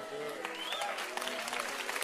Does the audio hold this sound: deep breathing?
no